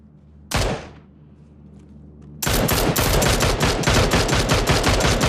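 An M4 rifle in PUBG fires a single loud close shot, then after a pause unleashes a long sustained burst of rapid automatic fire, sharp and evenly spaced.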